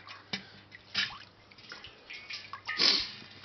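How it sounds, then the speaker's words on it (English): Water splashes and drips as a speckled trout fillet is rinsed, a few soft irregular sloshes close by with a small spike at the end, no talking. "So now that you have your fillet off, you can give it a rinse in some water."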